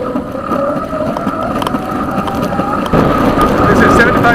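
A 3D printed eBike with an Arduino-controlled motor and lithium polymer battery runs at 75% throttle around 20 miles per hour, its steady motor whine droning under constant wind rush throughout.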